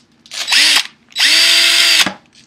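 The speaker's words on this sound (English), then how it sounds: "Now you can maybe drill." A handheld power drill bores into wood for a simple machine project, in two bursts: a short whine, a pause, then a longer steady run that winds down at the end, loud and close with no talking.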